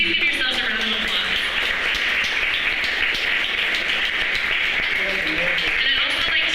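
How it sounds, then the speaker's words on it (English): Sustained applause from an audience at an evening city capital budget community forum in Pittsburgh, a steady dense wash of clapping filling the whole stretch at even loudness, with faint voices underneath. "So please give yourselves a round of applause."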